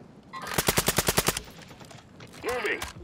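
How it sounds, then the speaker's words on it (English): Rapid burst of about nine gunshots in an online shooter game, firing from a rooftop, loud and close, followed by a brief pause and a softer in-game effect near the end. "she's shooting from top of the building"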